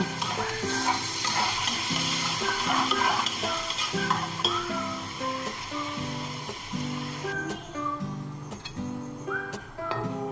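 Chana dal frying in a pot hisses and sizzles as a little water is added, with steady stirring and faint utensil scrapes, while melodic background music plays throughout.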